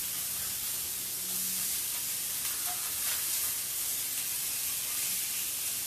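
Herb and garlic pork chops sizzle in a hot, unoiled pan right after flipping, a steady, dense hiss that carries evenly throughout with no talking.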